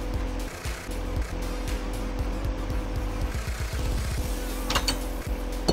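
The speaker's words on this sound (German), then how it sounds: "kann dann das Fahrzeug einfach wieder anschmeißen und runterfahren" A car engine in the Ultimate Car Mod video game cranks, catches and idles. A rattling mechanical clatter is followed by a steady engine drone, with a few clicks and knocks over a constant hum.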